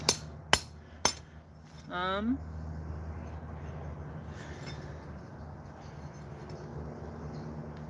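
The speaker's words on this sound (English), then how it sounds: "Now when it's cold like this, and I'm hitting it, that's called planishing." Cold metal being planished with a hammer on a rose-making project: three sharp, ringing strikes close up in the first second, then a brief scraping sweep, followed by a low steady hum and faint workshop noise.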